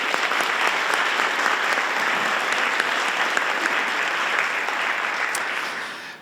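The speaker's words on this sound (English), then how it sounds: "Can we give our board of directors a round of applause" Sustained, dense applause from an audience at an arts hall of fame ceremony greets the board of directors, holding steady and loud before tapering off at the very end.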